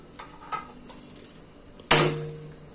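Dried moringa leaves are roasted with roasted gram, pepper and cumin in a hot pan. Soft scrapes and light taps lead to one sharp metallic clang of the stirring utensil against the pan, quiet and close, without talk.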